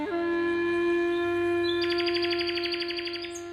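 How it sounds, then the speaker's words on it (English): A nightingale sings a sustained whistled note, then breaks into a rapid repeated trill of bright chirps, close and clear with a steady tone held underneath. "As the nightingale started to sing with us"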